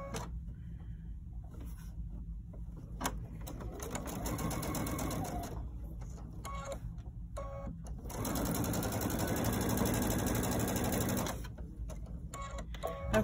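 A sewing machine stitches a quilt block seam in two steady motor runs, the second louder and longer, with brief pauses and handling between.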